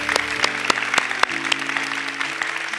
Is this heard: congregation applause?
yes